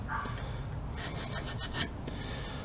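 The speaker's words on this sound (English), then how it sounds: "scraping the mica." A sharp-pointed old Lexan cutter scrapes the mica between the commutator segments of a rebuilt Weasel starter motor, making close, dry rasping strokes in short repeated bursts.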